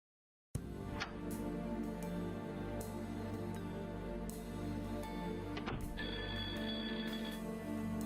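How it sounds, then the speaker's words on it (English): A telephone ringing in the point-and-click game Blackwell Unbound, a steady electronic ring over a continuous hum and background music, with no voices. "someone's calling me"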